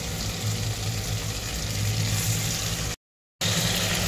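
Lamb loin frying in melted butter with garlic and onion gives off a steady, close sizzle and hiss that cuts out for a brief moment near the end.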